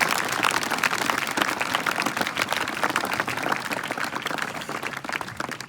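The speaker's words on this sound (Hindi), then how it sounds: "तालियां कमजोर रहेंगी।" Audience applause at a live talk in Hindi, a steady dense wash of clapping filling the whole stretch at moderate loudness, no voices standing out above it.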